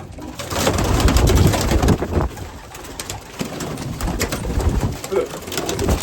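Racing pigeons coo softly and repeatedly in a loft, overlapping murmurs and rustling wings close by, with someone speaking over them.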